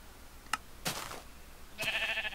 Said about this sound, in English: Now just stand right there, Mr. Sheep